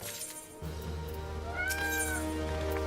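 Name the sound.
cat meowing in video game Final Fantasy XIV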